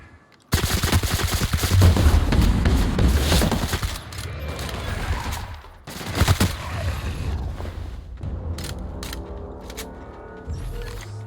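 Loud automatic gunfire from the sci-fi shooter The Outer Worlds, fast rattling bursts close up, broken by a pause and then more shots and impacts, with no talking over them.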